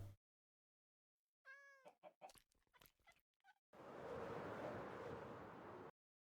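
A Minecraft cat meows once, a short rising-and-falling call, followed by quick clicks and shuffles and then a burst of broad hiss-like noise, all in an otherwise silent game scene.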